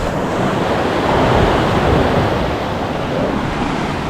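Steady roar of ocean surf washing onto a beach on Lambai Island, broad and continuous with gentle swells, mixed with some wind rumble and no voices.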